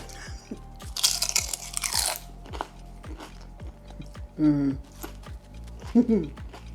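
Close, crunchy bites into a vegan spinach and feta pie with flaky pastry layers, loud crackling crunches followed by chewing, with a steady rhythmic ticking in the background.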